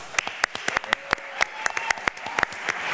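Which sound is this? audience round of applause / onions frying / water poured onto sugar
audience round of applause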